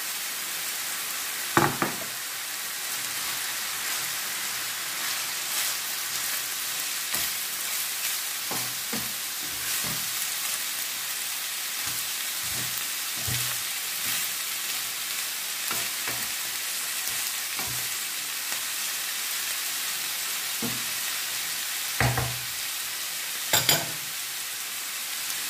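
Green olives sizzle steadily in a frying pan, with a continuous crackle broken by several louder scraping stirs of a utensil against the pan, close by and with no talking.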